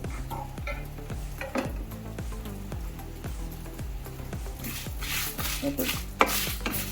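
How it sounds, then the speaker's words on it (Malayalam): Roasted curry leaves stirred into a dry sambar spice mix in a pan, with a steady rhythm of scraping and rustling strokes, close and fairly quiet, and a faint sizzle underneath. "കറിവേപ്പിലി നന്നായിട്ട് വറുത്തെടുത്തിട്ടുണ്ട് അത് നമുക്ക് ഇതിലേക്ക് ഇട്ടിട്ട് മിക്സ് ചെയ്ത്"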